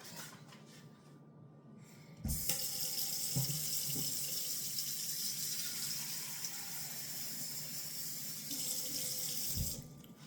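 Water runs from a kitchen tap while pita bread dough is being made, starting abruptly after a quiet moment and flowing as a steady hiss before cutting off near the end.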